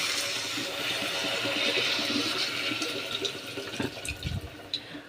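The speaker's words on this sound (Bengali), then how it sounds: "এবার জল দিয়ে দেব পরিমাণ মতন" Water pours steadily into a cooking pot of khichuri made with dalia and vegetables, a continuous splashing rush that thins into gurgles and drips toward the end.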